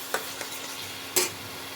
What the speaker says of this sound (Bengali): সামান্য একটু জল দিয়ে দিচ্ছি। এটা ভালো মতো মশলাটা কষিয়ে নিই।